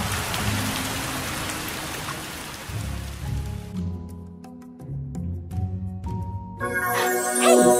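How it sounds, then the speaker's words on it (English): Steady rain hisses in a video game for a few seconds before giving way to soft game music with chiming, tinkling notes. "Rain, rain, come again."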